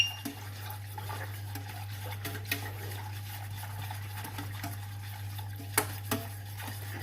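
Lasagne bolognese mixture being stirred in a pot, soft wet scraping and occasional utensil knocks over a constant low hum, close and moderately quiet.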